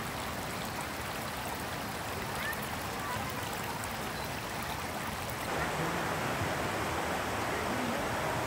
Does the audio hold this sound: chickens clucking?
no